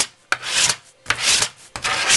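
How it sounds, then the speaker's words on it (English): A hand tool scraping residue off a crafting surface in three long, loud rasping strokes, each starting with a sharp onset, close to the microphone with brief pauses between them. "So give it a good scrape."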